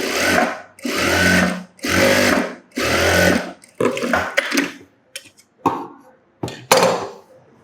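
A sewing machine stitches a blouse in four long, loud runs of rapid whirring, followed by shorter stop-start bursts and clicks, close up with no talking.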